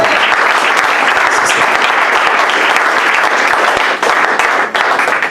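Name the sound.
congregation applauding, clapping for Jehovah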